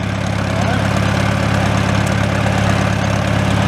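An old International Harvester Farmall antique tractor engine idles close by, a loud, steady low rumble with even rhythmic chugging pulses throughout.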